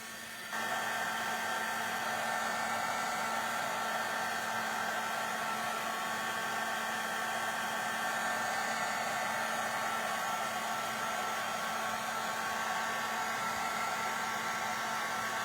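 A hair dryer or heat tool blows on a painted art journal page, a loud steady whooshing roar with a constant hum, running continuously and alone.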